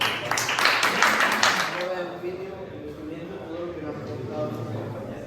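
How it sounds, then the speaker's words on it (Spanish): An audience applauds at a school Book Day event, with a short burst of dense clapping at the start that quickly fades out as a voice begins speaking. "Sí, un aplauso para ellos."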